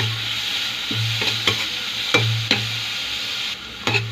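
Onion, tomato and aromatics sautéing in a pan for pork sinigang, with a continuous loud sizzle up close, broken by several sharp scrapes and taps from a stirring utensil.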